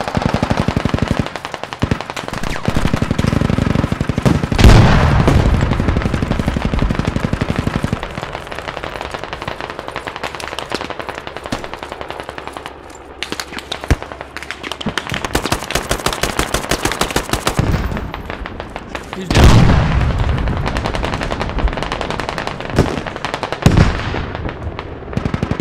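Machine gun suppressing fire in the game Squad, with long sustained bursts of rapid automatic shots, loud and close, broken by brief pauses and sharper single blasts.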